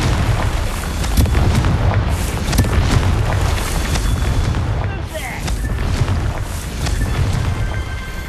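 Booming blast from the Confringo spell in Hogwarts Legacy, heavy explosive rumbles rolling continuously under game noise and music, loud and close for several seconds.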